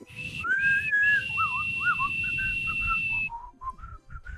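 A person whistles a bright, wavering tune, with long held notes and quick slides, loud and close with no talk.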